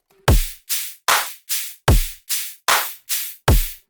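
A simple drum pattern of sharp, punchy claps alternating with deep kicks, about nine evenly spaced hits, loud and dry with no voices.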